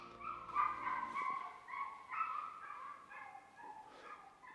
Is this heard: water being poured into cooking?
no